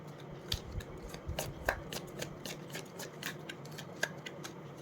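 Tarot cards being shuffled and drawn, quick papery riffles and soft flicks in an irregular rhythm, close and fairly quiet, with no talking.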